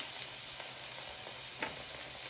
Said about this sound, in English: I'm just going to put it in my little electric skillet tonight